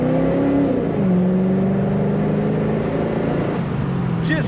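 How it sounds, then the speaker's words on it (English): A 1989 Chevrolet Corvette Convertible engine revs up and settles, its slightly muffled exhaust giving a steady loud rumble with rising and falling pitch, heard close. "Very nice exhaust sound to this car."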